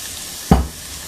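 Onions and minced garlic frying in a pan: a soft steady sizzle with one brief louder scrape or stir midway that fades back into the low hiss.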